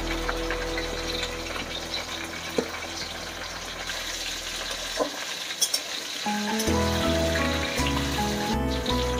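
Potatoes, pointed gourd, sweet potato, papaya and carrot for Bengali shukto fry in hot oil, giving a continuous close sizzle that swells louder and denser partway through as more vegetables drop in, with a few faint clinks.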